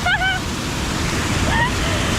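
A steady rush of falling water at Chet Si waterfall in Bueng Kan fills the short stretch, a broad continuous roar with brief bird-like whistles and a voice faint over it.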